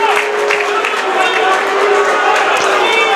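A high school basketball crowd in a gym roars with sustained murmuring, shouting and scattered cheers after a referee's non-foul call, loud and continuous.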